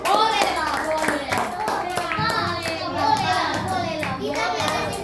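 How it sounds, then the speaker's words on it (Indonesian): A school class claps hands in a lively, uneven burst of many individual claps close by, with children's voices chattering over the clapping. "Ya, beri tepuk tangan Pak."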